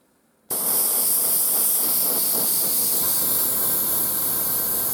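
An airbrush spraying paint onto a terrain model starts abruptly after a short silence, then holds as a loud, steady, close hiss with no pauses.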